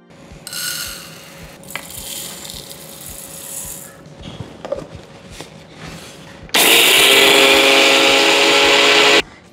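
Sugar is ground into fine powder in a kitchen mixer grinder, preceded by clattering and rattling as the jar is set up, then a loud, steady motor whir of about three seconds that stops abruptly.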